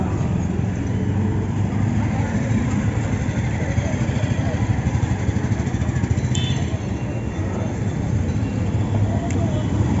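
A motorcycle just repaired and pulled out for a test run, known as one of the loudest bikes in Dharan, rumbling at a steady, close idle, with voices talking over it throughout.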